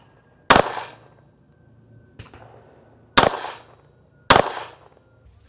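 Three sharp gunshots ring out at a range, fired at targets through a red dot sight, each a loud crack with a short decaying tail, spaced a couple of seconds apart, with a faint click between.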